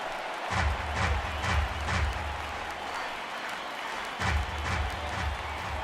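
The Yankee Stadium crowd of over 52,000 in MLB The Show 18 stands and roars with a ninth-inning strike looming, a broad wash of noise swelling in rhythmic waves of clapping that fade and rise again.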